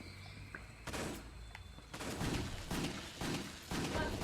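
Gunfire from the shooter video game Wet, a handful of sharp game gunshots in quick bursts over a busy, moderately quiet game soundtrack.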